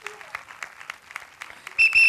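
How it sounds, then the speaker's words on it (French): An audience applauds capoeira performers at a dance event, steady clapping throughout, with a brief whistle near the end. "on les applaudit très fort."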